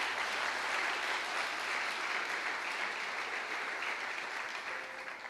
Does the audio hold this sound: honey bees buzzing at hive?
no